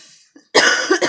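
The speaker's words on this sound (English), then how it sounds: "One big excuse me for all my coughs." A person coughs twice in quick succession, close and fairly loud, after a brief faint sound and near silence.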